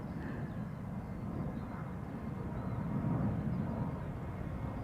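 Airliner taking off at Schiphol Airport, a faint distant steady rumble of jet engines holding throughout with a slight swell near the middle, no talking.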